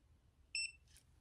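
A TYMO ROVY hair curler lets out a single short, bright electronic beep, close and clear, followed by a faint rustle in an otherwise quiet room.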